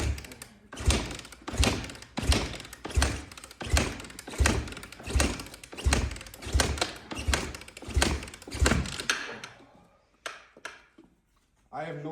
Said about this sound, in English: let's give her a couple kicks, see if she'll fire